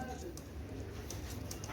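Imported Pakistani Teddy pigeons give a soft, low coo in the background, faint against a steady hum with light indistinct noise.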